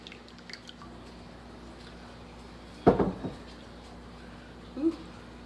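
Thick pumpkin pie filling poured into a pie crust gives one short, wet squelching plop midway, then a softer splat near the end, over a quiet kitchen background.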